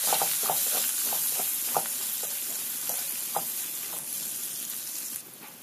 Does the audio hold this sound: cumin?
yes